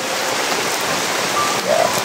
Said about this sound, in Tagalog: Dito po tayo ngayon, sobrang maulan to.